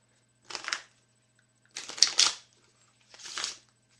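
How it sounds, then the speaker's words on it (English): Three short, crisp bursts of cards being riffled and shuffled, close up, separated by brief pauses of quiet. "after you've shuffled your deck"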